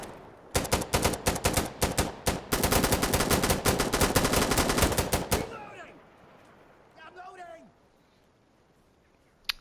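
Rapid automatic gunfire from a line of guns firing rounds downrange during an assault, dense overlapping bursts for about five seconds, then it stops and people talk quietly.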